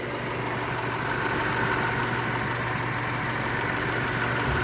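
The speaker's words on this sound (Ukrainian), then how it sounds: "Це зараз кондьорчик включений у нас." A 2013 Daewoo Gentra 1.5 gas-petrol engine idles steadily with a low rumble and a constant blowing whir from the air conditioning fan, running unchanged throughout.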